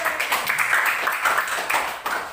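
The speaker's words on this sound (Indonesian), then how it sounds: "Kelompok 3, silakan berikan tepuk tangannya." Close, brisk clapping from a small audience, likely a classroom group, applauding a presenting group; short and uneven, lasting a couple of seconds.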